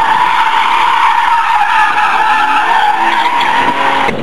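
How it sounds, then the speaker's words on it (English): A Cadillac drifting, its tires skidding in a loud, continuous squeal that holds steady for about four seconds before cutting off abruptly near the end. "I want to go drifting in a fucking Cadillac."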